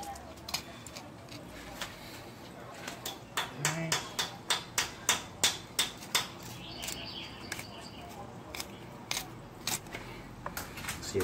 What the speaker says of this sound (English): you're hearing the knife rubbing against the bone of the fish while going down